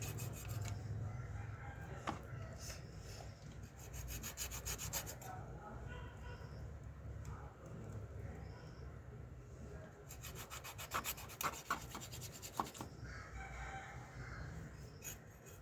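A sheela, or barracuda, fish is scraped and cleaned, with repeated rough rubbing and scraping strokes close by, while a rooster crows faintly in the background.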